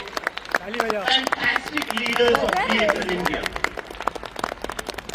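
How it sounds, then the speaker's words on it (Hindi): Audience applause for the DXN India leadership, crown diamonds and above, at a company event: a steady patter of clapping runs beneath someone speaking loudly into a microphone. "सब लोग तालियां बजाइए इन लोगों के लिए।"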